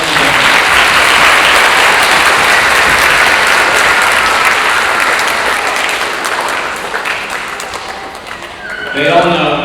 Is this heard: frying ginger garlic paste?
no